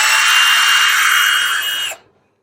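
Cheap power drill spinning in second gear, a loud steady high-pitched whine held for nearly two seconds before cutting off abruptly into silence.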